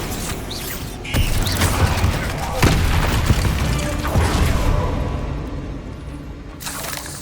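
In the Hogwarts Legacy video game, a Bombarda blasting spell goes off as a heavy boom followed by crumbling, creaking debris, with several sharp impacts spread across a loud, sustained rumble that cuts off near the end.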